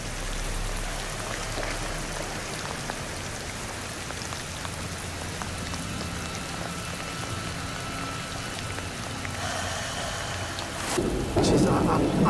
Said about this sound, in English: Jeez, I can't remember experiencing rain that hard for that long. Just barreling down on us. Absolutely bucketing down.